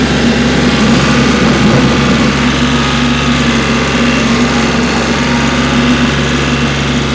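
A 2017 Kioti CK4010 compact tractor engine runs steadily and loudly throughout, a constant low hum with a droning tone and no pauses.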